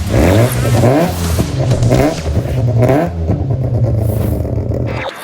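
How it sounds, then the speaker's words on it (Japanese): A Mazda RX-7 FC rotary engine revs hard and high again and again, with quick rising and falling pitch sweeps, loud and close, with some mechanical clatter. "これはロータリーの音だよ。"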